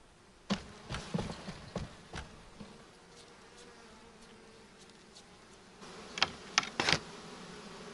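Bees buzzing around beehives at an apiary, a faint background hum with close insects zipping past in short buzzes, several passing near in quick succession toward the end.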